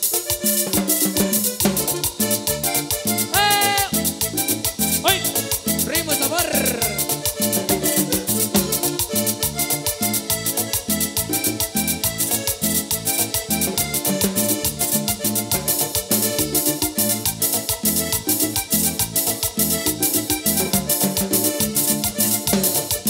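A live coastal Latin band plays a continuous, loud, full-ensemble tune with a steady beat, throughout the whole stretch with no talking.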